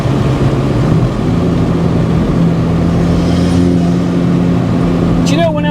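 Alfa Romeo 4C Spider accelerating, heard from inside the cabin: a loud, steady engine drone whose tone shifts as the car pulls, with voices talking over it and a short squeak near the end.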